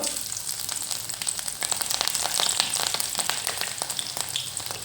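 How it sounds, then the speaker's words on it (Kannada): Oil heats on a gas stove in a frying pan for mutton sambar, giving a steady, dense sizzle with fine crackles throughout, close and fairly loud, with no voices. "ಈಗ ಬಾಣಲಿಗೆ ಸ್ವಲ್ಪ ಎಣ್ಣೆ ಹಾಕಿ ಕಾಯ್ಲಿಕ್ಕೆ ಇಟ್ಕೊಂಡಿದ್ದೀನಿ"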